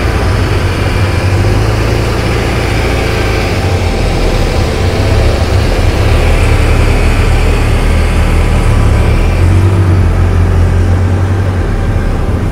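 A tractor pulling a disc cultivator across a field's headlands after rain, its heavy low engine drone steady and loud throughout, close to the microphone with no talking.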